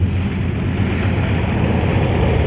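An Antonov An-2 propeller biplane runs during an airport emergency drill at Mogilev, a loud, steady engine drone with a low throbbing rumble, close and unbroken throughout.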